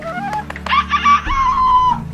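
A single loud rooster crow rises and holds for over a second, ringing out above a steady low hum.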